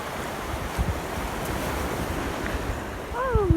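Ocean waves breaking on a beach near a lighthouse in Funchal, a continuous broad wash of surf with wind noise on the microphone, and a brief voice near the end.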